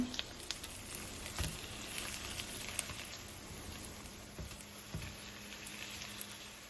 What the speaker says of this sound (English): I'm going to flip them over and brown them on the other side